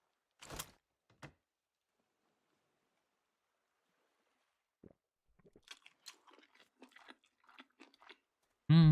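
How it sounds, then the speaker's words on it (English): Sharp crunching bites open the clip, then a pause followed by a stretch of clicky, wet chewing noises ending in a loud thump, from the video game Sunkenland. "The chewing sounds. They are wonderful,"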